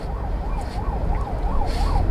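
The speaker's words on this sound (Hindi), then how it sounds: "एम्बुलेंस आ रहा था तो इसको साइड देना ज़रूरी था" An ambulance siren wails on the road, loud and near, its pitch rising and falling in a steady repeating sweep over the low rumble of traffic.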